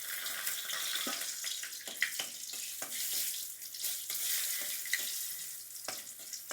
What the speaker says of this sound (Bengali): তেলটা গরম হয়ে গেছে, দেখুন ফোড়নে দিয়ে দিচ্ছি 2টো তেজপাতা